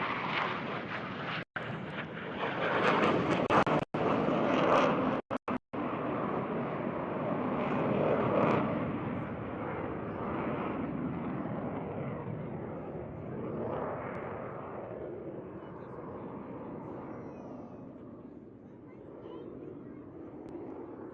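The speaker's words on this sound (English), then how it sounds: "these pilots that are flying the Blue Jets today" Blue Angels jets flying over NAS Pensacola at an air show, a loud sustained roar that slowly fades as the jets pass, with wind buffeting the microphone and a crowd talking and cheering.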